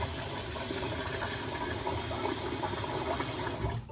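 Rinse water is poured off sushi rice, making a continuous splashing, hissing rush that runs nearly four seconds and stops abruptly at the end.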